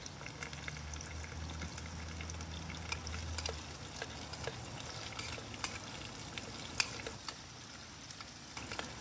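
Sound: vegetables sautéing in oil on MSR stove

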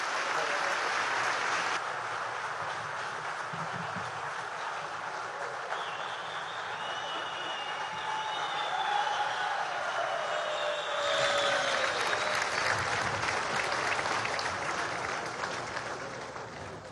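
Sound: crowd applause

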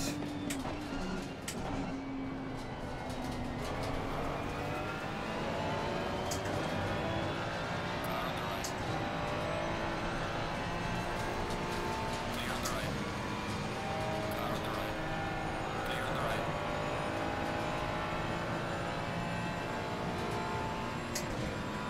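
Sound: race cars racing at Watkins Glen

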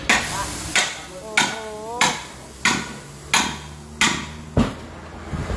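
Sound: hammer and chisel removing tire from alloy wheel

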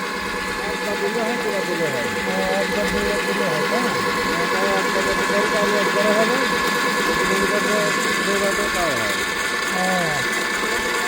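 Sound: sugarcane juice machine running

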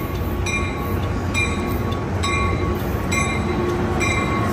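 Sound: passenger train arriving at station

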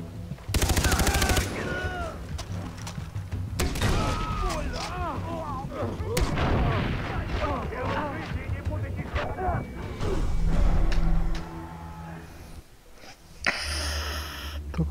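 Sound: grenade launcher firing at a wall, Far Cry 3 video game

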